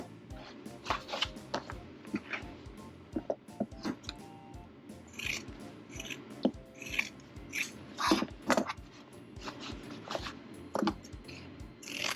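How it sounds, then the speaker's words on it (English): Scissors snipping through the corners of old quilt fabric, a series of quiet, crisp, irregular cuts with soft fabric rustling between them, close and faint, no talking. "now we are going to cut the corners. You can use a rotary cutter. I like to use my scissors."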